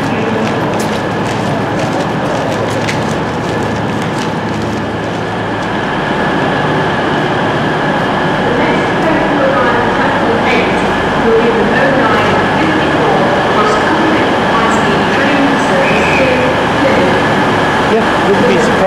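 Trains at Sheffield railway station, with Pacer units among them, idling and rumbling in a steady, loud platform din that grows slightly busier midway, with faint voices and station bustle underneath.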